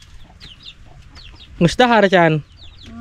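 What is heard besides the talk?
chicken clucking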